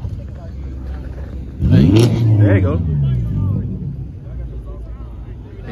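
At a loud street meet with motorbikes, a car engine revs up sharply and holds a rising, roaring pitch before easing off, close by and loud, with a person speaking briefly over it.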